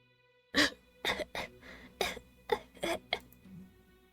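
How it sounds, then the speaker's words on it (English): A coughing fit in a room: about seven harsh, breathy coughs in irregular bursts, each one sharp and separated by brief pauses, fairly quiet and close. "A sudden onslaught of coughs echoed through the room"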